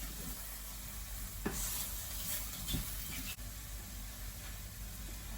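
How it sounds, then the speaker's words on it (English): Mushrooms cooking down in a single pot on a caravan stove for gnocchi, a steady soft sizzle with occasional stirring scrapes and clinks, no talk. "allow those to cook down so that the mushrooms release all of their juices and flavour"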